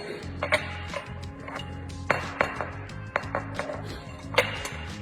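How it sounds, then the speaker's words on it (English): A series of light knocks and clicks as a puzzle is tapped on each of its sides against a surface, irregular and close, with small rattles between taps. "I'm tapping it on each one of the sides."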